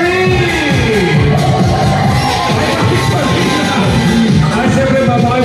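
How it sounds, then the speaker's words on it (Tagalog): Guests at a wedding celebration at the Highlander Hotel cheer and shout together, a loud, busy crowd roar with whoops and overlapping voices sustained throughout. "isang malakas na palakpakan ko!"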